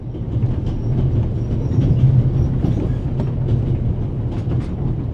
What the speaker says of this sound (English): If you're such a clever fellow, what am I doing on this train?